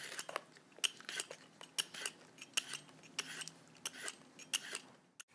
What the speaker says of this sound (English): So I'll go ahead and peel the zucchini.